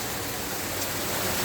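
Rainwater runs off the gutter of a custom screen porch during a downpour, a steady, dense rushing hiss of water that holds even and unbroken throughout.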